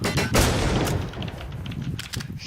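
Rapid video game gunfire unloads on a boss, a dense burst of overlapping shots with booming low end that stays loud for a couple of seconds and then thins into scattered hits.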